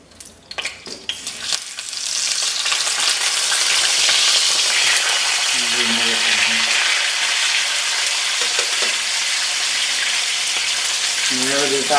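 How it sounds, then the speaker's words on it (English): A rack of lamb is laid into a hot pan at about 350 degrees and sears with a loud, steady sizzle after a few brief knocks, while a voice speaks intermittently over it. "we are going to put the rack of lamb very slowly to sear it"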